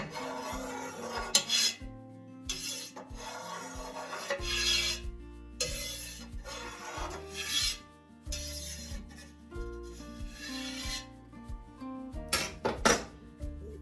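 A knife cuts fresh mozzarella curds made from raw milk into uniform pieces inside a pot, giving a series of short, close scraping and rasping strokes with brief pauses between them, and no one talks.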